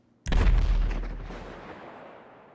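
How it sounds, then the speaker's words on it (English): A huge explosion erupts outside the Diamond Casino in a video game, a sudden loud boom with a sharp attack and a long, rumbling decay that slowly fades over a couple of seconds. "there's some sort of chaos going on outside because there's a huge explosion right as I leave"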